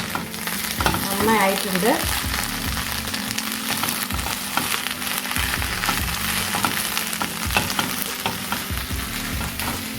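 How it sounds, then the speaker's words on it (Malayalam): Sliced okra fried over low flame hisses and crackles in a pan while being stirred, with regular scraping strokes close by; a voice speaks briefly near the start. "അതിൻ്റെ ആ വഴുവഴുപ്പൊന്ന് പോകുന്ന വരെ നന്നായി ഒന്ന് ഇളക്കി കൊടുക്കുക."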